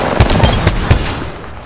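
Rapid automatic gunfire in Apex Legends, four or five loud, close sharp shots in quick succession over under a second and a half, tailing off into a fading echo.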